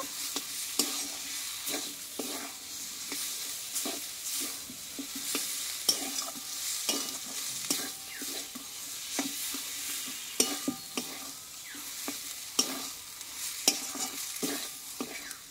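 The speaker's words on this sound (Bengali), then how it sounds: "এইবার এখানে কষে রাখা কুমড়োর লতিগুলো দিয়ে দেব, দিয়ে আবারও আমি কিছুক্ষণ কষিয়ে নেব" Pumpkin stems sautéing in a pan with egg, a continuous close sizzle with frequent spatula scrapes and clicks as they are stirred, with no one speaking.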